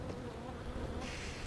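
Bees buzz steadily from a bee mine in the Don't Starve video game, a continuous droning hum that holds at moderate level for the whole stretch with no talk over it.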